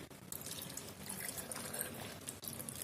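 Chilled boiled milk is poured over a cup of mango pieces for a milkshake, making a quiet, continuous liquid trickle and splash close by.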